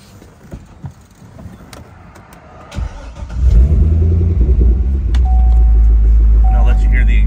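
A 2005 Corvette engine cranks and catches after a few faint interior clicks and rustles, then settles into a loud, deep rumbling idle close by, with a voice briefly heard over it.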